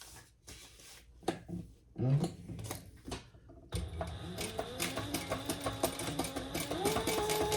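After a few seconds of handling and fabric rustle, a sewing machine starts top stitching and runs steadily and fairly close to the end, its needle strokes forming an even rhythm.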